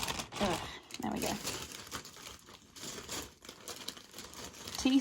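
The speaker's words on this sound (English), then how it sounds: "I'm going to crack open the zippy bag with the sprues in now." A plastic zip bag packed with miniature model sprues for Kingdom Death pinup figures is pulled open, giving close, continuous crinkling and rustling with sharper crackles throughout.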